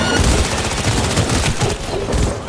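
Continuous heavy gunfire in Cyberpunk, dense overlapping shots and rapid automatic bursts filling the whole moment, loud and close with no clear pauses.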